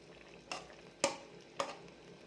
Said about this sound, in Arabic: ونحركها.